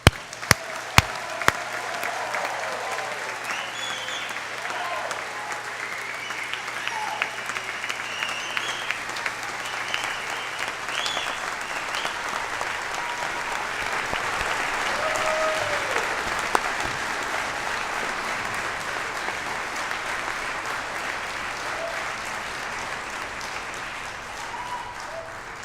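A large convocation audience applauds graduates in a long, sustained, even roar of clapping that lasts with little change, with a few sharp nearby claps standing out.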